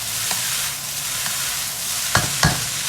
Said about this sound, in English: we're frying this rice